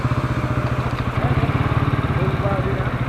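A Motorstar Cafe 400 motorcycle with an aftermarket muffler runs close by with a deep, rapid, throbbing exhaust pulse that stays steady throughout.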